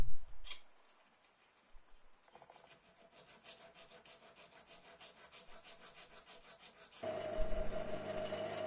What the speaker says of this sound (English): finishing off with silicon carbide paper.